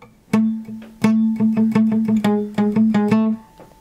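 Repeated strummed chords on an acoustic guitar, a quick down-up rhythm with clear plucked attacks, played alone and close.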